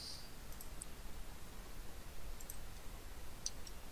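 Several faint, sharp computer mouse clicks come at irregular intervals over a low background hiss while edges are selected in Autodesk Revit software.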